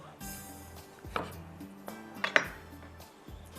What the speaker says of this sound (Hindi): अदरक लहसुन डाल के मैंने चूल्हा बंद किया है ताकि मैं टमाटर को कट कर लूँ